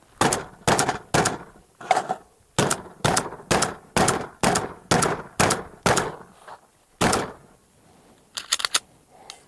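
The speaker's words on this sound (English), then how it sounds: "So let's rack it off the table." Meprolight MPO-F red dot mounted on a pistol, its slide racked repeatedly against a table, giving a steady series of loud, close metallic clacks and thumps with short pauses, a couple of faster clicks at the end.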